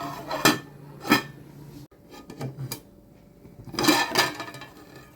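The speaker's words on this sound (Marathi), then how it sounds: "आता झाकण ठेवायचं" A metal lid set onto a cooking pot of boiling shingole, giving several sharp clattering clinks of metal on metal, close and fairly loud, in short bursts separated by quieter handling noises.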